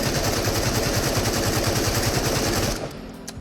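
Continuous full-auto rifle fire from AKM and AK-74 rifles in the game Into the Radius, a loud, rapid unbroken stream of shots that cuts off near the end into a short fading echo.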